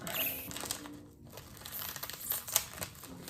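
A crinkly plastic wrapper on a Meiji Japanese candy being opened, close and fairly quiet, with continuous rustling and a few sharper crackles.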